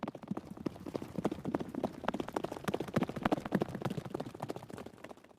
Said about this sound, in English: Heathcliff's taken Master Inley's best horse and he's gone